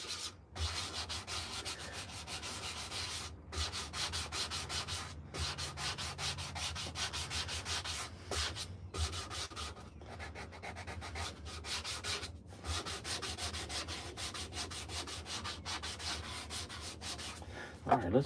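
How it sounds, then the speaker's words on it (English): Steady rasp of sandpaper rubbing a hand-carved wooden spoon, continuous back-and-forth strokes with brief pauses, close and fairly quiet. "let's get this other piece of sandpaper and give it a few minutes of that"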